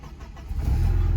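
A Porsche 944 that had broken down cranks briefly and then catches, rising into a loud steady engine rumble up close.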